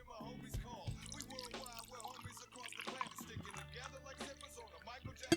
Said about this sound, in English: That sounds like some good coffee, guys.